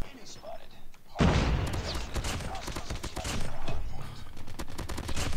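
Rapid gunfire from COD Mobile, an ongoing burst of shots that stays loud and dense for several seconds after a brief quieter lead-in, with a voice talking over the game.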